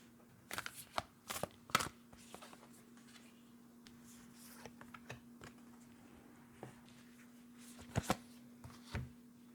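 Oracle deck cards being handled and shuffled on a quiet table, a series of soft irregular riffles, taps and slaps in short bursts over a faint steady hum.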